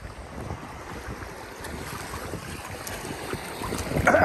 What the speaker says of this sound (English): these waves are nailing me right in the navel